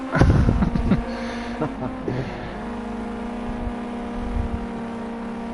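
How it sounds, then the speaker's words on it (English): A race car with a small Z-Tech engine roars loudly at the Hockenheimring short circuit, a harsh sustained engine drone with steady pitch and a louder burst at the start. "Hear the roar of that little Z-Tech engine."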